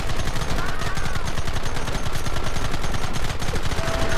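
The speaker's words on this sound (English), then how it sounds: "Open fire!" Rapid, sustained gunfire from a Red Dead Redemption shootout on Xbox 360, loud and continuous bursts of shots layered over game noise and a shouted voice.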